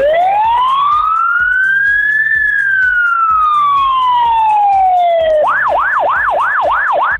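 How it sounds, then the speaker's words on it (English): A loud, close police siren wails in a long rising and falling tone, then switches to a rapid repeating yelp. "Police car."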